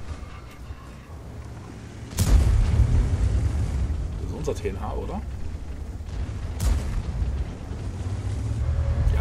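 Tank gun shots and explosions in the World of Tanks video game, one sharp loud blast and a second later shot over a rumbling engine bed, with people talking over the game.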